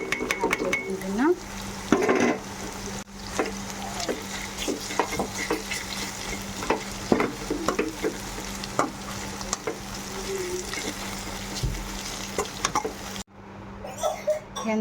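Beetroot stir-fry cooking in a pan, a continuous low sizzle with frequent clicks and scrapes of stirring against the pan throughout, fairly close and moderately loud.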